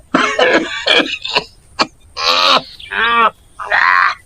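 Several harsh coughs and throat-clearing bursts in quick succession, close and loud, with short pauses between.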